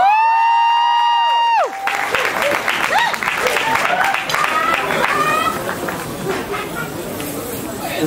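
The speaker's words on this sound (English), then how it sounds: "Applause!" Applause and cheering from an audience at a belly dance show in Jakarta, breaking out loudly after a sustained tonal sound and continuing steadily with whoops and voices mixed in.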